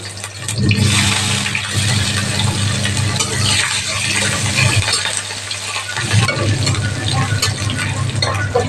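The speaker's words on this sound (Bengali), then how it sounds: "তো তেল গরম হয়ে গেছে, লঙ্কা আর তেজপাতা দিয়ে দিয়েছিলাম, এখন সামান্য মতন দিয়ে দিচ্ছি রসুন" Garlic sizzling in hot oil already seasoned with dried chilli and bay leaf, a steady close-up frying hiss that runs unbroken throughout, with a low hum beneath it.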